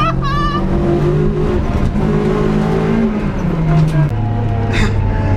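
A Renault Clio 1.8 Group N rally replica with rollbar, its engine droning loud and close at steady revs that step down through several pitches, with a faint voice at the start.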